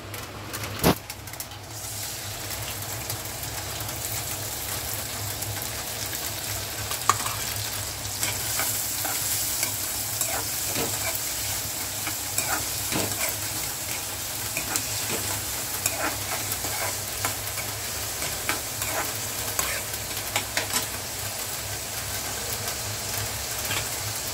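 Chopped onion and ginger-garlic paste frying on high heat in a pan, a continuous close sizzle with frequent spatula stirring clicks and scrapes running throughout.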